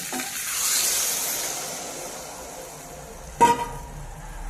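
Salted vegetables sautéing in a pan give a faint, steady sizzle, with one sharp utensil scrape or clatter late on, close by and without speech.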